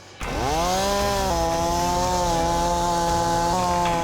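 A chainsaw revs up and then runs steadily and loudly nearby, its engine drone holding a constant pitch with slight shifts in speed.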